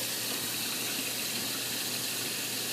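A kitchen sink tap runs steadily, a loud, close, continuous hiss and rush of water with no talk over it.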